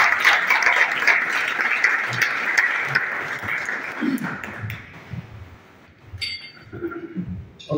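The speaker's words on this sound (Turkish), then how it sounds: "Bu altın madalyayı ülkemize kazandıran Türkiye Boks Federasyonu Başkanımız Sayın Eyüp Gözgeç Bey'e alkışlarınızla" An audience at a boxing federation event applauds, a dense burst of clapping that fades after a few seconds into scattered claps and clinks.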